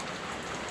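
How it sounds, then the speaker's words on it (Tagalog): Heavy monsoon rain pouring on and leaking into a small store, a dense, steady wash of drumming drops with no pauses and no voices. "kasi hindi pa tumila yung ulan"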